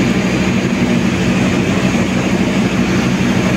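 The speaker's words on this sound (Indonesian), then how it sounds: "terlihat ini rangkaian kereta yang paling depan adalah lokomotif" A KA Argo Semeru passenger train hauled by a diesel locomotive, heard as a loud, steady, broadband rumble and roar throughout with no breaks.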